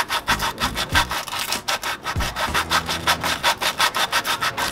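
A rusted brake hub on a 2011 Toyota Corolla gets scrubbed clean with fast, rhythmic rasping strokes, loud and close, in a steady back-and-forth beat.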